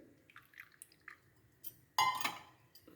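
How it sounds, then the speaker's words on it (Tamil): Filter coffee decoction poured into a tumbler: a soft trickling splash that starts abruptly and fades within a second, after a few faint drips and clinks. "அதுக்கு ஒரு 1/4 டம்ளருக்கும் கூட டிகாஷன் ஊற்றிக்கோங்க"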